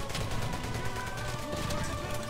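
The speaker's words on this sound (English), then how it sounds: "Suppressing fire!" Dense suppressing gunfire in a World War II-style shooter game, a continuous rattling fusillade of overlapping shots, loud and steady throughout, with no voices over it.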